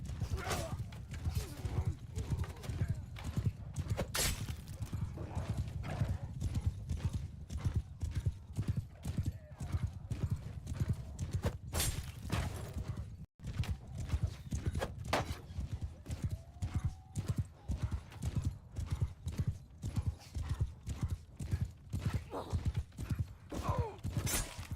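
Horse hooves clip-clop steadily in a Bannerlord battle with a Lord of the Rings mod, a dense continuous rhythm of many hoofbeats with occasional whinnies over a busy, loud background.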